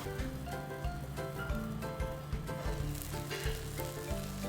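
Loud, continuous sizzling of oil added around the edge of a pot of fish pieces, crackling steadily and up close, with no voices.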